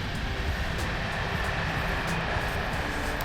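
A train rumbles past close by on the outskirts of Budapest, a loud continuous roar and rattle filling the whole stretch without pause.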